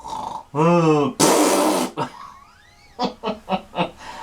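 A voice mimics a loud snore with a rasping, pulsing drawl, followed by a burst of breathy noise and a string of short sputtering blats like a fart.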